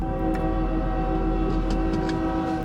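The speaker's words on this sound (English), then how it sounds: "the train was coming" A train approaches and passes, a loud continuous rumble with steady tonal hum, sounding close and filling the whole clip without any talk.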